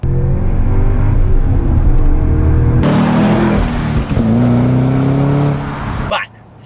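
A 2013 Cadillac CTS-V wagon with a manual transmission and about 600 wheel horsepower, its engine droning then rising sharply into a loud, close rev before cutting off, with a voice talking over it.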